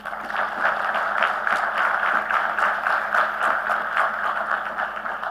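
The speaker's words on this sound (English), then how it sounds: "can I ask all of you to have a huge round of applause for your parents" Graduates at a university convocation and Founder's Day ceremony give a sustained round of applause for their parents, a dense, even roar of many hands continuing throughout.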